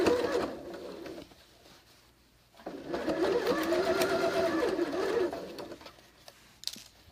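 A sewing machine stitches through the layers of a Christmas stocking in two bursts of steady, fast whirring, briefly pausing between runs, close and clear with no talking.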